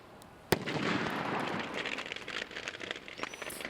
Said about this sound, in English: Officials set off fireworks inside an SUV to show the dangers